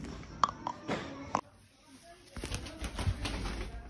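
Pigeons fluttering and shuffling nearby, with a few soft clicks and short coos and a brief burst of wing flaps, quiet against low background noise while a person talks faintly.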